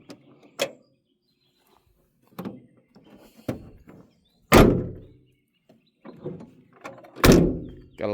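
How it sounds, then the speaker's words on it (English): The sliding door of a 1996 Chevy Express 1500 conversion van is worked several times, with sharp thunks and latching clunks at irregular intervals and two heavier slams, close up with no talk. "Gotta love that sound. Nothing like a van door."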